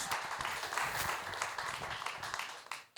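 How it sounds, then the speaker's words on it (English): Audience applause for Paul at a roofing and construction company presentation, dense, close clapping from a crowd that keeps going for a few seconds before dipping away at the end. "So give Paul a round of applause and give me your attention, please."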